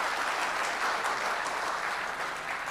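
Steady applause from the audience at a Republic Day mushaira and kavi sammelan in India, a continuous, moderately distant patter of many hands clapping without pause.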